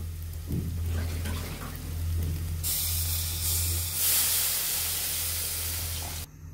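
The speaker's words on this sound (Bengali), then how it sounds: "এখন আমরা জল দিয়ে দিব।" Water poured into a pan of hot fried masala for an egg omelette curry sets off a loud hiss and sizzle that swells after a low background hum and a few soft clatters, then cuts off abruptly at the end.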